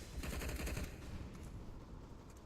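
MP9 submachine gun fire in a Counter-Strike match, a dense rapid burst of close shots in the first second, then continuing game noise and faint distant pops.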